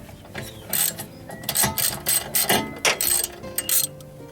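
A wrench works 10 mm bolts loose from a car's lower control arm, giving a run of close metallic ratcheting clicks in short bursts with brief pauses between them.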